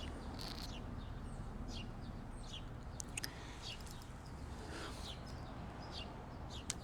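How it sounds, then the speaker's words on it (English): Faint outdoor birds give short, scattered chirps and tweets throughout, over a steady low background hiss, with no voices heard. "You hear the birds?"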